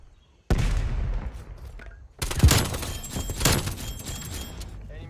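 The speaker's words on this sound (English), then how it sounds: "Oh, somebody shot at me." A burst of gunfire is aimed at the player in a competitive shooter, with one sharp volley, a short pause, then a louder run of close, echoing shots and impacts, with no talking.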